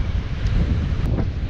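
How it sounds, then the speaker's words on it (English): Loud, blustery wind roaring over a broad wash of crashing ocean waves, steady and close, with no talking. "it's very windy out and the waves are just coming in like crazy"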